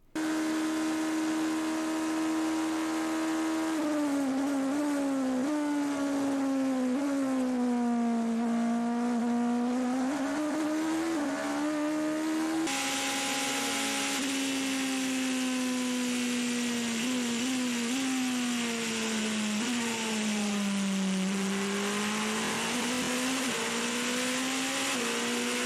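Toyota LMP1 endurance race cars, the 2013 TS030 and the 2014 TS040, roar steadily as they enter the same corner, the engine pitch sweeping down and back up through the turn in two passes, with no talking.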